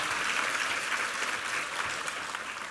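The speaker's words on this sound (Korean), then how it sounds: "우리 하나님께 감사와 영광의 박수 올려드리겠습니다" A congregation at a Sunday church worship service claps together in a steady, even wash of applause that holds throughout.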